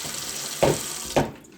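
Water runs from a newly replaced kitchen faucet in a steady close stream, with two brief splashy surges a half-second apart before the flow tapers off.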